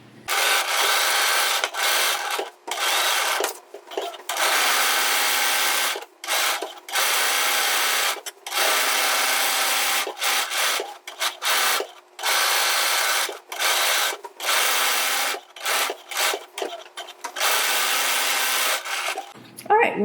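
Domestic sewing machine top stitching around the inner edge of a stretchy fabric Japanese knot bag, a steady close whirring hum running in long bursts separated by brief pauses.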